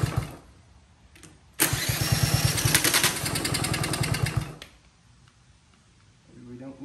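Small Honda CT70K1 motorcycle engine catches after a brief crank, running loud and rough for about three seconds before cutting out, with faint voices and clanks around it.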